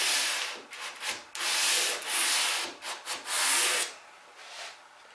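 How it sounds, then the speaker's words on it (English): Wood being hand sanded with a sanding block in a woodworking finishing demonstration, steady rasping strokes back and forth in several close bursts with brief pauses, no talking. "then sand up to the block, shuffle and come back, up, shuffle and back."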